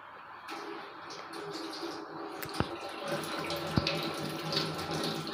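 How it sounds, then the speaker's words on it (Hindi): Hands being washed under a running water tap, a steady close splashing hiss with a couple of sharp clinks, birds chirping faintly in the background. "अब हाथों को जो अच्छी तरह धो लेना है टूटी के पास।"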